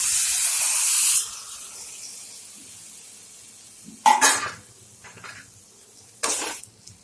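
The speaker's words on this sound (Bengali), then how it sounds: "এখন আমি যেটা তৈরি করে রেখেছি পটলের বীজ আর সয়াবিন এটা দিয়ে দিই।" Pointed gourd seeds and soybean tipped into a hot pan with chilli powder and turmeric, giving a loud brief sizzling hiss that fades, then two more short sharp sizzling bursts as the mixture is stirred.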